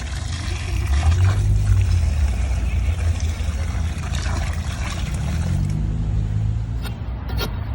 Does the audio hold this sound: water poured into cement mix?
yes